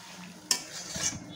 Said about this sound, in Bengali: দিয়ে একটু হালকা করে নাড়িয়ে দেবো